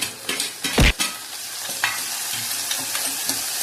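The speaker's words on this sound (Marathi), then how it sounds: "नंतर आपण त्यात कांदा टाकायचा" Onion is added to moong dal and stirred in a hot pan, making a close sizzle with a few sharp spoon-and-pan knocks followed by softer scraping, with no talk.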